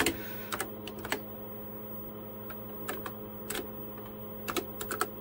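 Quiet, scattered keystrokes on a TRS-80 Model 16 computer keyboard, with irregular clusters of clicks and short pauses between them, heard up close with no talking.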